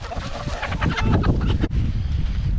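Chickens cluck and squawk nearby on a homestead during an evening garden watering, a steady jumble of bird calls that dips briefly midway and then continues at the same level.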